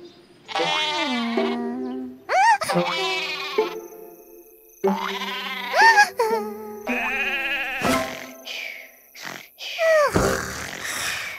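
Cartoonish sheep bleats from a children's counting app game come in a series of separate wavering calls, with springy boing-like effects mixed in, clear and close with no talking.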